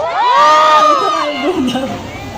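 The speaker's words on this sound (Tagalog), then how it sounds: "Zaya, sigaw kayo kung gusto nyo ng comeback" A large crowd at a radio station anniversary concert shouts and cheers together, a loud sustained roar of many voices rising and then tapering off.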